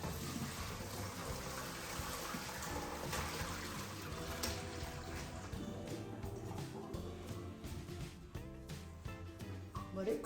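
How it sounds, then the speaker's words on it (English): Boiled garden tomatoes and their hot water pour into a strainer, a steady rushing splash and trickle that carries on for several seconds, faint and close, with some clatter near the end. "We're gonna dump the tomatoes in a strainer."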